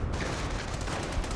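Gunfire rattles through a Company of Heroes 1 sniper battle in a ruins map, a dense, continuous volley of shots with no clear pauses between them.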